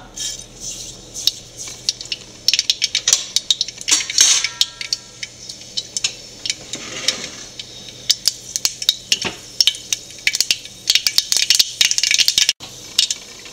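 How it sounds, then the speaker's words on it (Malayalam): Mustard seeds spluttering in hot oil in a pan, a dense run of sharp crackling pops and rattling utensil clatter over about thirteen seconds, loud and close with no talk. "എണ്ണ ചൂടായിട്ടുണ്ട് കടുക് ഇട്ട് കൊടുക്കാം"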